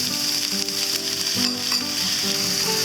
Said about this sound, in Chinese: 我们把烫个7分熟的面捞起。